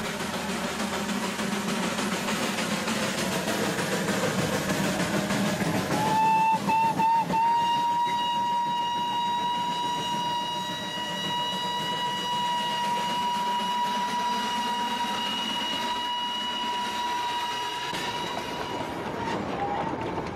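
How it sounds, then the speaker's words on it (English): An Indian Railways locomotive gives a long, loud, steady whistle blast of more than ten seconds over the constant rumble and rattle of the running train. "everyone along the way knows it's him by the sound of his whistle."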